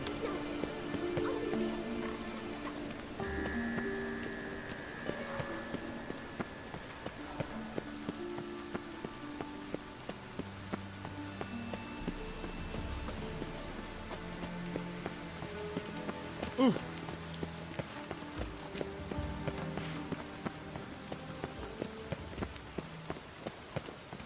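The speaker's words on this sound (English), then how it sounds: "And it's raining again." Rain in The Witcher 3 patters steadily on surfaces throughout, under game music tones and occasional voices.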